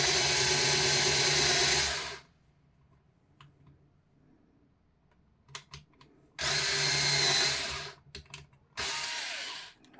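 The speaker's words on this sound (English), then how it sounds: "I'm not drilling down very far because this wood is kind of soft" A power drill boring a shallow starter hole into soft wood for a door decoration, a loud whirring motor run in three bursts separated by quiet gaps with small clicks and handling noises, close and with no talking.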